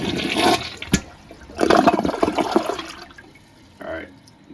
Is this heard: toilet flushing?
yes